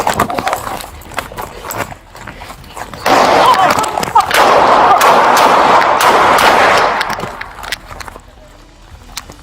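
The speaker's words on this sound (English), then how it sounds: "Shots fired. Shots fired." Rapid bursts of gunfire pop and crackle during a police shootout with a fleeing suspect, a dense volley lasting several seconds amid shuffling, scraping noise and scattered shouting.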